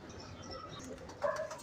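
Pigeons of a mixed breed coo softly nearby, with a brief, slightly louder call near the end over a low, murky background.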